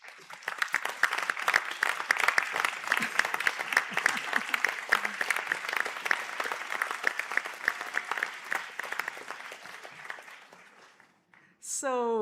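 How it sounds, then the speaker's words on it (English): Supporters applaud graduates at a conferring ceremony in Sligo, a large hall crowd giving dense, sustained clapping for about eleven seconds before it fades and a brief voice follows. "let you give them a round of applause as a little thank you"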